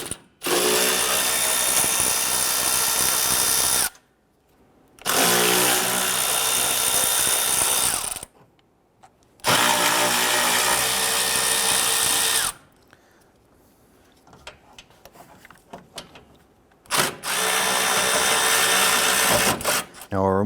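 A power tool, likely an impact driver or drill, spins out 10mm bolts from the radiator support of a 2012-2017 Toyota, in several loud sustained bursts of whirring separated by silent gaps, close up.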